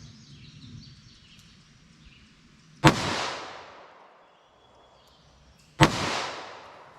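Two sharp, loud .38 Special +P gunshots fired outdoors from a short-barrel gun, about three seconds apart, each with a decaying echo tail over faint background ambience.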